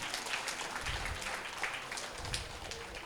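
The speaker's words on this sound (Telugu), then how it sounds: "ఒకసారి గట్టిగా చప్పట్లు కొడదామండి" Audience applause at a pyramid anniversary gathering, a steady wash of many hands clapping for about three seconds, fairly faint and without speech.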